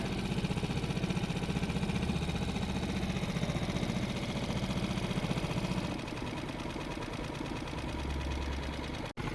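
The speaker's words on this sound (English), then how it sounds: "So here's a couple small boats coming in." A steady, buzzing motor of a small motorboat coming in toward docks drones continuously nearby, its pitch and loudness shifting slightly partway through as the engine throttles down.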